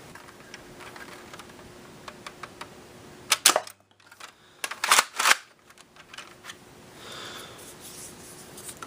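Nerf toy crossbow shots fired during a chronograph test, a few sharp clicking snaps and cocking clatters, several clustered close together midway, set against a faint quiet background.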